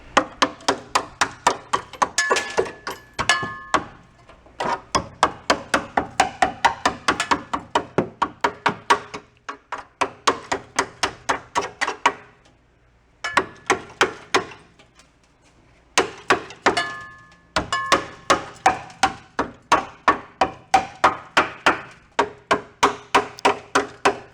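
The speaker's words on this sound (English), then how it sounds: "Beat it with a hammer. See what falls out." Steady rapid hammer blows ring on the metal frame rail of an Oldsmobile Cutlass, loud and close, in long runs broken by a few short pauses.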